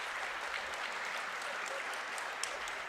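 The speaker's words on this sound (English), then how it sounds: "It's the most applause I think we've heard today here from the Union faithful." Crowd applause from spectators at a high school girls basketball playoff game in a gym, a steady sustained wash of clapping at moderate distance with no talk over it.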